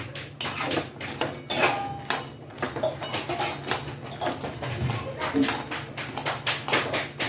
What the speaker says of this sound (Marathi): आता ना शेंगदाणे टाकले भाजायला